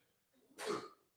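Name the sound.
sneeze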